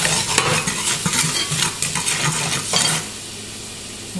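Garlic frying in a pan for a Haitian crab and coconut sauce, a busy crackling sizzle with stirring clinks, then dropping to a quieter, steady hiss near the end.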